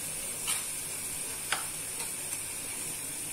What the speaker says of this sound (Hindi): 10 सेकंड के लिए मैंने सब्जियों को अच्छे से भून लिया है